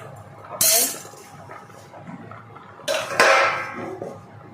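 A lid goes onto a pot of cooking rice with two sharp metallic clinks a few seconds apart, close and fairly loud over a low background.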